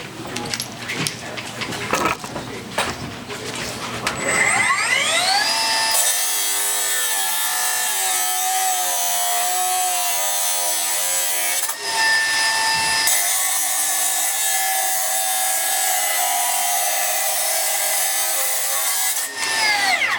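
A Milwaukee M18 FUEL 9-inch cordless cut-off saw spins up with a rising whine, then grinds steadily through 5/8-inch rebar in a loud, sustained shriek, pauses briefly, and cuts again. Some speech and rustling come before the cut.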